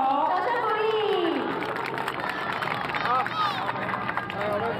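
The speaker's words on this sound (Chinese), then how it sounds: "掌声鼓励" Applause from a crowd at an outdoor tree-planting ceremony, a dense steady patter of clapping mixed with cheering and excited voices throughout.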